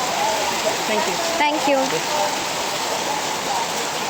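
Heavy rain pours down at a temple entrance in Bali, a steady dense hiss that fills the whole stretch, while a voice speaks briefly partway through.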